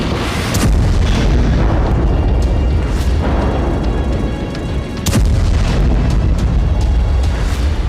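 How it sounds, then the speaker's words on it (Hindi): Powerful blasts destroy Hamas positions in the Jabalia camp area of Gaza during an Israeli ground operation: loud, continuous rumbling booms like artillery, with heavy sharp detonations near the start, midway and around five seconds, no talk. "वहां हमास के ठिकानों को विस्फोट से उड़ाया जा रहा है"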